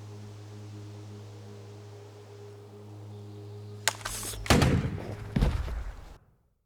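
Gunfire in a dramatic short film: a low hum fades, then a loud, sharp bang hits, followed by a second heavy blast that rings briefly before cutting to silence.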